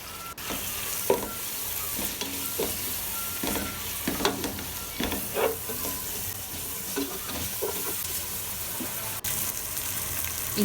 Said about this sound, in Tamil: அதையும் எல்லாத்தையும் நல்லா வதங்க விடுங்க